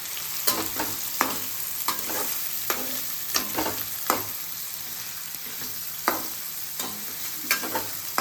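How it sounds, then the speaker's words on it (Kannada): Onions sautéing in a pan for prawn roast, a constant sizzle broken by regular sharp clicks and scrapes of a spatula stirring close by, with no voices. "ಇಲ್ಲಿ ನಮ್ಮಮ್ಮ ಸೌಟೆ ಮಾಡ್ತಾ ಇದ್ದಾರೆ."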